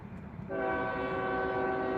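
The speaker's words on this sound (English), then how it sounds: "Here comes the train." A train horn blasts loud and sustained, starting abruptly after a half-second of rumbling railway noise and holding steady to the end, with the rolling clatter of the passing train underneath.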